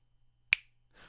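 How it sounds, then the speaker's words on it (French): A single crisp finger snap cracks out sharply near the middle of an otherwise quiet moment, followed by faint soft rustling. "au claquement de doigts"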